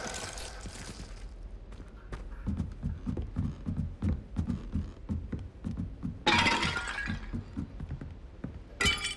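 A Glacius freezing spell cast in Hogwarts Legacy, heard as a cluster of sharp icy cracks and shattering bursts, with a second bright crackling flare later among rapid low thumping combat hits.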